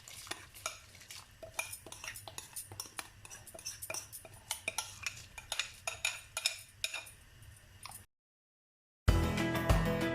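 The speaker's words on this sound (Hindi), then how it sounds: "ये खड़े मसाले शामिल कर लेते हैं और ये राइस शामिल कर लेते हैं" Whole spices and rice tipped into a pot of boiling water for matanjan rice, heard as a run of close clinking, scraping and stirring knocks, then a brief silence and a louder, denser burst of bubbling and clatter.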